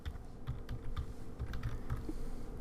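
Quiet, fast typing on a computer keyboard as a spreadsheet formula is entered, a brisk patter of light key clicks with no voices.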